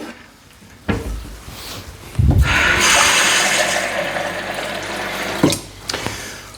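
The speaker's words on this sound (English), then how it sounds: "Just need to pop some water in that, which is gonna come from a cup" Water poured from a jug into a container for home brewing, a sustained splashing stream lasting a few seconds, preceded and followed by brief clunks of handling.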